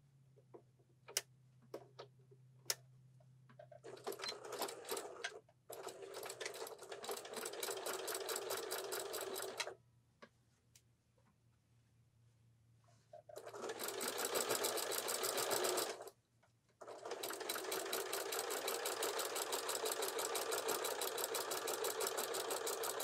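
Sewing machine stitching a zippered pillow with boxed corners, running in long rapid bursts of dense needle clatter separated by quiet pauses and a few soft clicks at the start.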